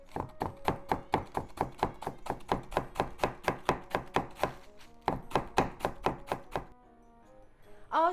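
A knife shreds cabbage on a cutting board, about three quick thunks per second, close and crisp, pausing briefly near the end.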